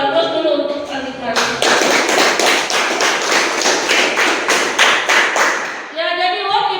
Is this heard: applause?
yes